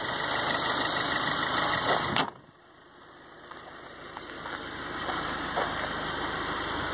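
A 2017 Subaru WRX sedan's 2-liter turbo engine idles with a steady, even hum that drops abruptly partway through, then settles into a quieter, smooth idle.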